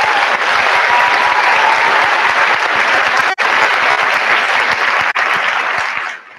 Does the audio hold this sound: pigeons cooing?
no